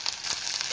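Onion, green chilli and garlic frying in a pan give a short burst of steady, bright sizzling, close and fairly loud, with no voices.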